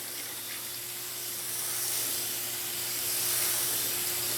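A handheld spray bottle mists water in a fine spray over freshly sown lettuce seeds indoors, giving a steady soft hiss that continues alone for several seconds and swells slightly toward the end.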